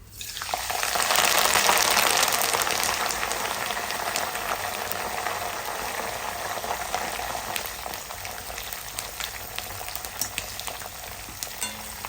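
Curry leaves frying in hot oil over a low flame while cooking murmura chiwda, a steady, loud crackling sizzle that swells after a quick start and then holds evenly throughout, with no talking.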